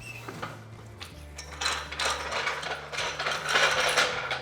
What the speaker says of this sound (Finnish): Sitten rojautetaan kottero alas.